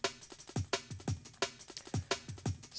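A reworked sample of a funk drum break, transposed up seven semitones in Ableton Live 10 for jazzy drum and bass. It loops fast and busy, with deep kick thumps, crisp snares and a steady hi-hat shimmer, and no talking.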